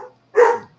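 One loud bark from a hound dog close by in a quiet room, set off by someone walking past the window, preceded by a faint trailing sound.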